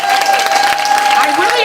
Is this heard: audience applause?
yes